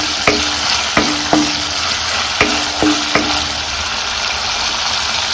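Chilli frying in a pan for egg rice, a steady loud sizzle punctuated by a handful of sharp metallic spatula knocks against the pan, clustered early and then stopping.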